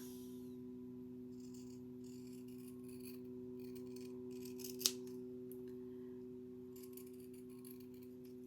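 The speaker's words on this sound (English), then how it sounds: "Right, trim your edges." Scissors trimming the edges of scrap fabric in a quiet room with a steady background hum, soft intermittent snipping and rustling plus one sharp louder click midway; no one speaks.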